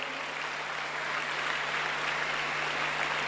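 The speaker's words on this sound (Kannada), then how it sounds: "ನೀವೆಲ್ಲ ಚಪ್ಪಾಳೆ ಹೊಡೆದು ಮುಗಿಸಿದ್ರಿ" A large audience at a public speech applauds steadily, a dense, even wash of clapping that holds at a constant level for the whole stretch, with no voice over it.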